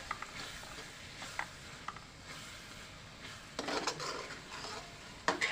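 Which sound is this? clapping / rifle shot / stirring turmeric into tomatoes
stirring turmeric into tomatoes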